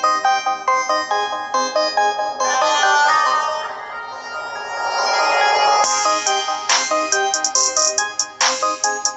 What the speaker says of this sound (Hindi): म्यूजिक कंट्रोल के साथ साथ यहाँ पर आप आपके ही वॉच के ऊपर